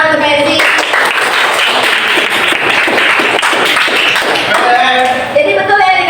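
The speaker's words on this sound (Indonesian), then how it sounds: "Oke, tepuk tangan untuk Messi." A classroom of students claps for a classmate, a burst of mixed, fairly loud applause filling several seconds, with voices chattering at the start and end.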